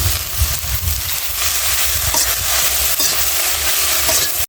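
Kharkon fried in a pan with green chilli, garlic and salt, stirred continuously: a steady sizzle with scraping of the spoon throughout, close and without talk.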